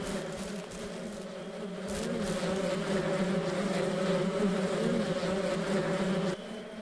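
Steady, loud buzzing of bees in the Ranch Simulator farming game, a continuous droning hum that holds unbroken for several seconds with no talking over it.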